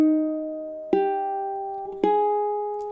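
Ukulele chord melody measure from a Sakura arrangement: a sustained plucked chord rings alone, then two fresh strums land about a second apart, each decaying slowly with clear, bright overtones.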